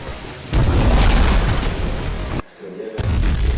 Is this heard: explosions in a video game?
yes